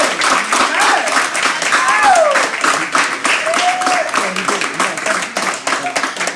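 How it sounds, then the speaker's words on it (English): A crowd applauds at a realty group event: dense, loud, sustained clapping with voices and cheers mixed in throughout. "And can we get another round of applause for that?"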